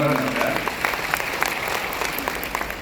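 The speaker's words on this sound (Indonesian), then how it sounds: "Tepuk tangan ya." Audience applause at a seminar presenting a patented fertilizer product, a steady wash of many hands clapping for about three seconds, with a voice briefly audible at the start.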